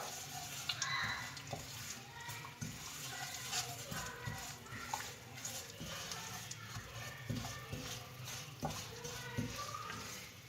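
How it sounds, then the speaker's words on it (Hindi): Poppy seeds roasting in ghee in a kadhai, with soft frying crackle and repeated scraping stirs of a spoon against the pan; a voice talks over it. "अब इसमें हम खसखस डाल के इसको भून लेंगे।"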